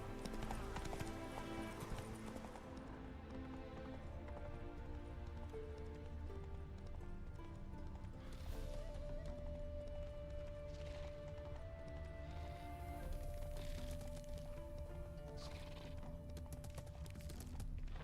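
Roach the horse gallops in The Witcher 3, with rhythmic clip-clopping hoofbeats repeating steadily under an ongoing musical score, close and clear.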